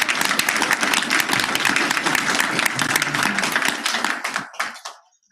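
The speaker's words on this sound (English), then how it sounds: "Can I get a round of applause for Miss Monica Martinez?" An audience at a school board meeting gives a burst of steady, dense clapping that carries for several seconds before thinning out and dying away.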